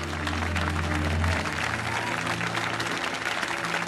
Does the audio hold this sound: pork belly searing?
no